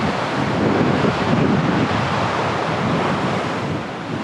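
Surf rolls onto a beach near Narooma and Glasshouse Rocks as a loud, continuous wash of breaking waves, mixed with wind buffeting the microphone and no voices.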